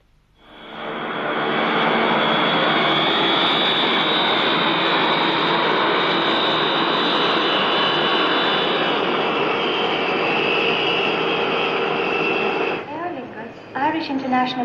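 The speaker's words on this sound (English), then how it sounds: "International Airlines announced the arrival of their flight EI-451 from London" Airliner arriving at Dublin airport, flight EI-451 from London, a loud steady jet roar that fills the scene at close range and holds for over ten seconds before easing off, with brief voices near the end.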